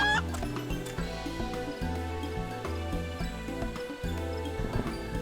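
Chickens in the video game Final Fantasy 14 cluck in short bursts over a steady, loud game music track that dominates the background.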